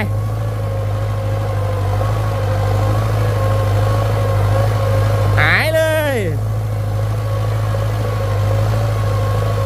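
A Massey Ferguson 5000 turbo tractor runs while ploughing, a loud steady engine drone with a low hum throughout; a voice talks over it briefly near the middle.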